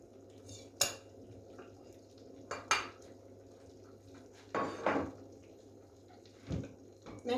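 A metal lid set onto a pot of cabbage dolma gives several sharp clanks and clatters spaced a second or two apart, close and distinct over a low steady hum in a quiet kitchen.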